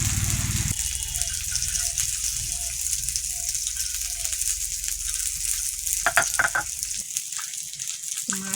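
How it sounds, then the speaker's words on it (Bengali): Fish fries in oil in a pan, a dense, steady crackling sizzle that fills the whole stretch, with a few brief rattling knocks of a utensil near the end and no talk. "মাছটাকে ভেজে গেলাম"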